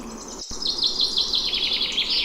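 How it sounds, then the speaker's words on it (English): Morning birdsong at Kodaikanal, a run of bright, rapid repeated chirps close by, continuous and fairly loud over a soft background hiss, with a brief dropout near the start and no voices. "The chirping sound of the birds and the mild breeze made us feel calm"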